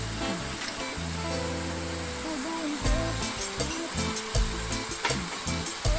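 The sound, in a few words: ginger paste frying in a pan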